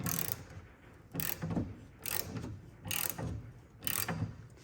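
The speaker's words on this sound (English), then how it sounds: "Now we just have to unscrew the links on the end. Here's the nut we got to remove. It is a 16 millimeter." A ratchet wrench works a 16 mm nut on the suspension links of a 986 Porsche Boxster, clicking in five regular, close bursts about one second apart with brief pauses between strokes.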